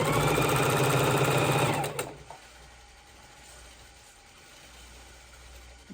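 A sewing machine stitches pieces for a four-patch baby quilt, its loud, steady mechanical whir running close up for about two seconds before stopping abruptly, leaving a quiet room with faint handling noises.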